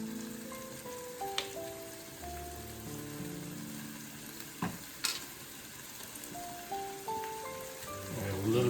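Meat frying in a pan just after a tablespoon of Worcestershire sauce is added, a steady sizzle under soft music, with a few clinks of a utensil against the pan.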